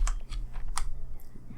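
A laptop keyboard is typed on in a few quick, scattered clicks over about a second, close and moderately loud, with a low hum beneath and no speech.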